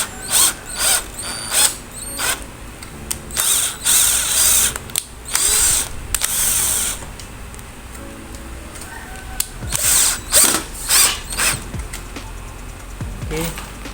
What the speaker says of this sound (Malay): Teman-teman tembak skru.